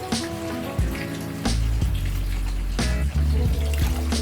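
A child pours a drink into a cup, a close trickling, splashing stream of liquid with changing pitch as the cup fills, steady throughout without talking.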